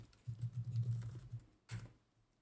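A password is typed on a computer keyboard as a quick, close run of soft key taps, followed after a short pause by a final sharper keystroke.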